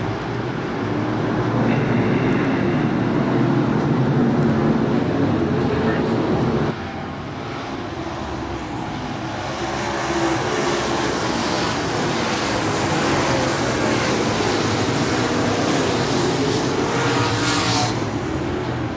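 American Modified Series race cars circling a track, a loud, continuous engine roar that swells and shifts as the field passes, with an announcer calling the race over it.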